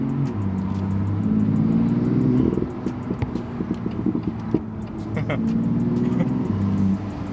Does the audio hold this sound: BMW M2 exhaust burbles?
yes